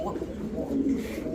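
A male yellow Dheuka pigeon gives soft, low cooing, faint and close against a steady murmur of background noise.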